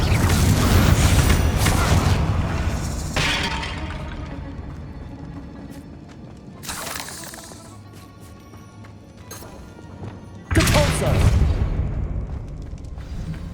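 Explosive Confringo spell blasts in Hogwarts Legacy, several heavy booming bursts spread out over time, each with a rumbling tail, among a background of game ambience and debris.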